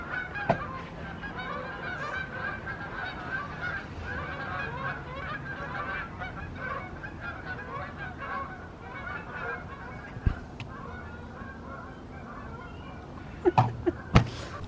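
A huge flock of about a thousand geese honks constantly while flying overhead outdoors, a dense chorus of overlapping calls at moderate distance, with a few sharp nearby clicks and knocks near the end.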